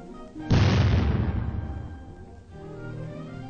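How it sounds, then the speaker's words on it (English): A high-velocity shell strikes a welded tank armor plate in a single loud, close boom with a long rumbling decay that fades into low background noise. "Later, high-velocity shells are fired at the weld itself."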